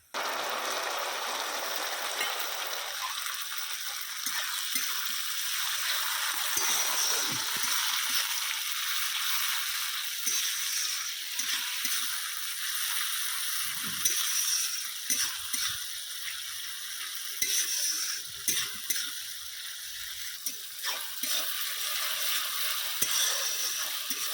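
Onions frying in a pan with salt and turmeric for a village-style Bengali mutton curry, a steady close sizzle with occasional scraping and stirring clatter throughout.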